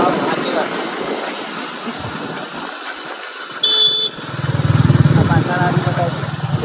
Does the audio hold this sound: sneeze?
no